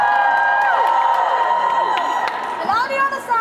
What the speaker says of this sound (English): Are we gonna get everyone to cheer for the picture